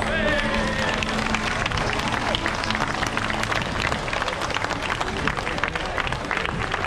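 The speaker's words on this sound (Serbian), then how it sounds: "To velik aplauz torej za naše prijatelje iz Srbije" Audience applause rises for a Serbian folk dance ensemble at a grape harvest festival in Lendava, brisk and dense clapping that thins a little toward the end, with some voices mixed in.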